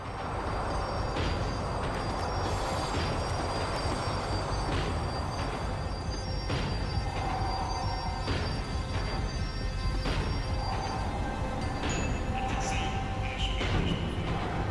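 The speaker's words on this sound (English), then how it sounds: "tram was slowing down, and I'd only just gotten on board" A tram in the video game Max Payne 3 rumbles and clatters along its rails as it slows, with repeated metallic knocks and faint squeals over a dense, continuous roar.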